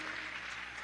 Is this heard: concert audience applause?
yes